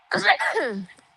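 A single sharp human sneeze, close and fairly loud, lasting under a second and followed by a brief quiet.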